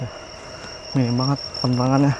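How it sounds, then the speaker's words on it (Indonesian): Crickets in the Japanese countryside at dusk keep up a thin, steady high chirring throughout while a person speaks briefly over it. "di sini juga banyak terdengar suara binatang seperti jangkrik"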